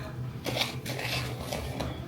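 Cornbread batter stirred in a bowl, a spoon scraping and clinking against the sides in a few quick strokes, quiet and close with no talk.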